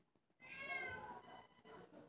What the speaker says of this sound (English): Y'all hear that hungry ass cat?